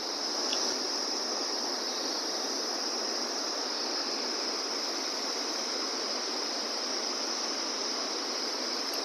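A waterfall above a hillside village roars in a steady, dense broadband rush, close and continuous, with no voices.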